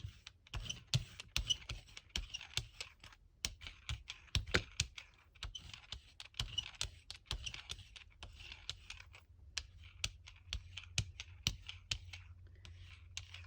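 Rapid, irregular clicks of fingers typing on a computer keyboard, close and crisp, continuing for several seconds with short pauses between bursts and no talking.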